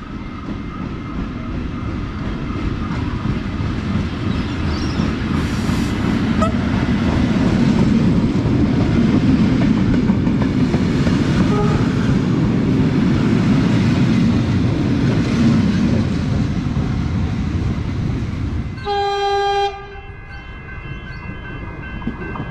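A Tait train shuttle at Brighton Beach Station, a loud, sustained rumble of the carriages rolling through, ending with a sharp tonal squeal or horn-like ring as it slows.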